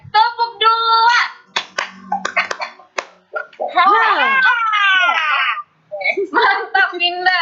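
A primary school class in Indonesia claps a short rhythm pattern on cue during a lesson. Sharp group claps come in quick bursts, mixed with children's voices and a teacher speaking or calling out.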